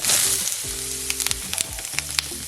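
Jalapenos and onions sizzling in a heated, oiled pan, a bright steady sizzle with scattered crackles and light wooden spatula taps, close up.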